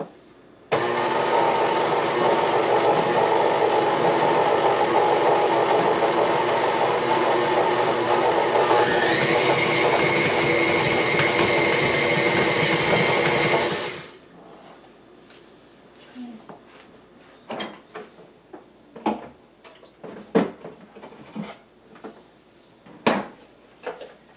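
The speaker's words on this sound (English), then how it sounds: "And now we're just going to mix it up well." An electric mixer whirs loudly and steadily as it blends whoopie pie batter, its pitch rising partway through before it stops, followed by scattered clinks and scraping of the bowl.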